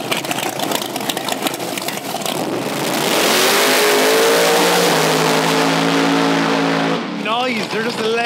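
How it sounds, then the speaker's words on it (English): Drag racing cars at a Friday night grudge match in a local town, a loud engine revving and climbing in pitch as it accelerates, roaring close by for several seconds before dropping away, with crowd noise and talk underneath. "Friday night grudge match drag racing."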